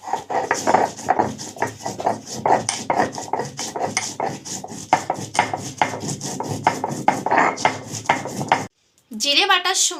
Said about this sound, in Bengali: এবার আমি জিরেটা বেটে নেব।